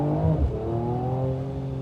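Mercedes-AMG E53 engine with a carbon fibre build revving up close, a loud steady engine drone with rising harmonics and a brief throaty surge at the start.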